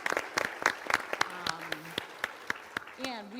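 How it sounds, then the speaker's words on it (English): Audience applause for an event's sound, lighting and camera crew, a burst of scattered claps spread through the room with voices talking over it. "So big round of applause for them."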